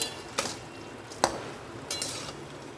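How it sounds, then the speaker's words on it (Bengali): Bottle gourd being stirred with prawns and green chillies in a pan, giving a few sharp spatula clinks against the metal over a soft scraping, sizzling background, with no talking. "এবার ভালো করে লাউটাকে মিশিয়ে নেব আমি মাছের সঙ্গে"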